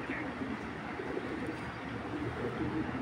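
A female racing pigeon coos softly, a low, throaty, rolling murmur that carries on steadily at close range against a quiet room background.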